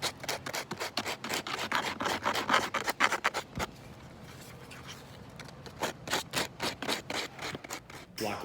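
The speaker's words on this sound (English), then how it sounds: "just get these edges a little bit fixed up with some sandpaper" Sandpaper is rubbed along the edges of a wooden block in quick rhythmic back-and-forth strokes, close and fairly quiet, with a brief pause midway.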